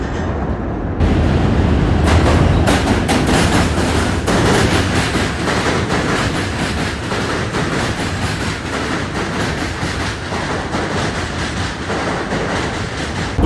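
A train rolls loudly across the Manhattan Bridge in New York, a close, continuous roar of rail noise with rhythmic clickety-clack from the wheels and occasional metallic squeal, sustained at full volume from start to finish.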